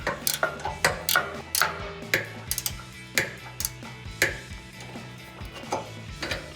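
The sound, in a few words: ratcheting wrench tightening Jeep bumper flag bolts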